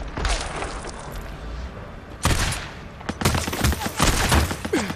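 Bursts of gunfire in the video game Days Gone ring out as rapid volleys and single sharp shots. They come in clusters with short gaps, grow louder and denser toward the end, and carry no talk.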